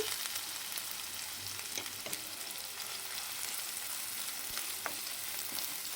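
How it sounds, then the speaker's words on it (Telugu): Chopped onions fry in three to four tablespoons of oil in a pan on the stove, giving a steady close sizzle with faint stirring scrapes throughout. "స్టవ్ మీద ప్యాన్ పెట్టుకొని ఒక మూడు నాలుగు టేబుల్ స్పూన్ ఆయిల్ వేసుకొని మనం కట్ చేసుకున్న ఉల్లిపాయ ముక్కలు వేసేసి"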